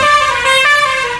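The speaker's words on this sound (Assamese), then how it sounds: "হয় ইয়াত হৰ্ণৰো সুবিধা আছে হৰ্ণো আছে ইয়াত হয় এই হৰ্ণ আছে ইয়াত" Horn of a homemade battery-powered vehicle sounds in one steady, loud, close-up blast that holds for over a second without a break, with no talk over it.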